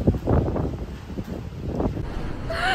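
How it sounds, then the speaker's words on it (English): Strong winter wind in the Faroe Islands roars and buffets the microphone in a continuous low rumble, with gusts swelling and easing. A brief, high voice-like tone rises at the very end. "Embrace the wind."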